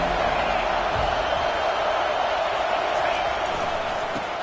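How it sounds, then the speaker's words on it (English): Stadium crowd noise in an EA college football video game, a steady dense roar of many voices filling the whole stretch at even loudness, with no distinct claps or cheers standing out. "This crowd bringing the energy and noise early."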